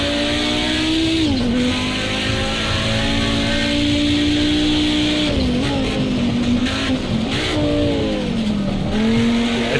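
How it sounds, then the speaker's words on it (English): Big rallycross car in a racing video game, its engine droning loud and near with revs dipping and climbing through gear changes, plus bursts of tire scrabble and squeal while cornering; no voices. "This is one of the proper rallycross cars, one of the big ones."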